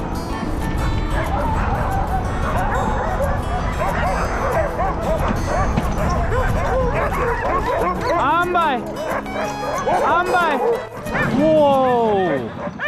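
Excited sled dogs in a kennel yipping, whining and barking in a dense overlapping chorus close by, with rising whimpers and sharp yelps near the end.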